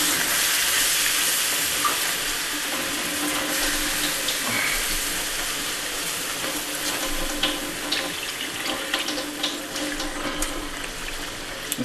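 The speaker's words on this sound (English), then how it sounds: "Just going to stir the roux in." Flour roux being stirred into milk in a pan for gravy, a steady wet swishing and faint sizzle that runs continuously throughout, with no voices.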